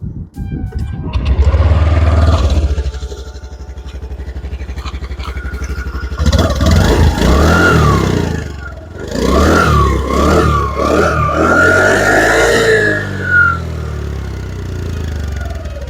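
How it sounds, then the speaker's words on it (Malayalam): 2025 Honda Dio 125 OBD2B scooter exhaust through a dual-hole silencer, a close, loud engine note that idles low, then swells and falls in a few rev bursts with rising and falling tones. "അതായത് ഡ്യുവൽ ഹോൾ ആയതുകൊണ്ട് തന്നെ അത്യാവശ്യം മുഴക്കമുള്ള സൗണ്ടും കാര്യങ്ങളൊക്കെ കിട്ടുന്നുണ്ട്"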